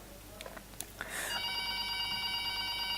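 A telephone rings on a live call-in broadcast: a few faint clicks, then a sustained electronic ring tone starts about a second in and holds steadily, clear and close, with no talk over it.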